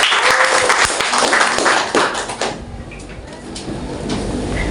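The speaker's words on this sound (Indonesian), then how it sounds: "Tepuk tangan dulu" Applause in a school hall during a junior high student council candidate debate in Jayapura, with broad noisy clapping that fades out over a few seconds amid crowd murmur.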